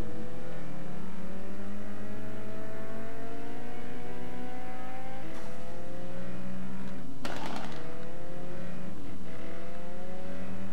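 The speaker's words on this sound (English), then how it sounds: "Why is my car backfiring so much?" Race car in a Need for Speed street racing game revs hard through rising gear pulls, with a couple of sharp crackling pops from backfiring exhaust cutting through the steady loud engine drone.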